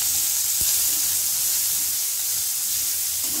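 Bay leaves and whole garam masala spices with a few cumin seeds hit hot oil in a village kitchen, giving a steady close bright sizzle and hiss throughout, with one brief low knock early on.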